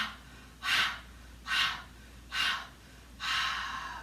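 A child's yoga breathing exercise, with four slow, breathy exhales in a steady rhythm, each about half a second long and the last one longer. The exhales are close and fairly soft, with faint room noise between them and no talking.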